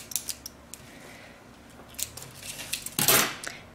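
Small scissors snipping beading thread, a few light close clicks and scrapes that end in one firm, louder cut.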